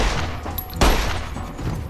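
A single sharp gunshot in the video game Fallout: New Vegas bursts out from a pistol or rifle amid a noisy, busy game soundscape, with a fainter shot or two just before it.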